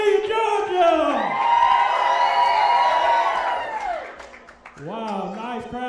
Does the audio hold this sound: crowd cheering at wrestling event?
yes